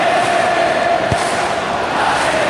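Virtual stadium crowd in the football game PES 2021 during an Indonesia versus Turkey match, a loud, dense, continuous roar of massed voices with a faint chant-like tone running underneath.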